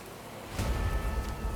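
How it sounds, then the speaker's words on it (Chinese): Rain starts falling during an outdoor bicycle ride in Singapore, a broadband wash of patter rising suddenly after a brief quieter moment and continuing steadily close by. "现在真的下雨了。"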